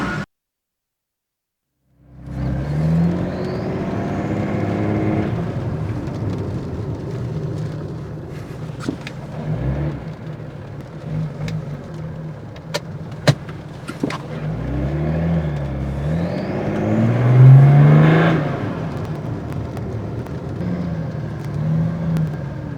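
A BMW 335d engine drones steadily from inside the cabin, rising and falling as it accelerates, with a couple of sharp clicks along the way.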